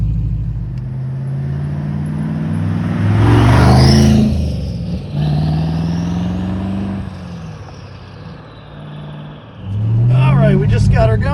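A Porsche 996 with an LS twin turbo engine swap drives on a freezing cold day, its engine rumbling loudly and rising as it revs and pulls away. Voices talk over the engine noise throughout.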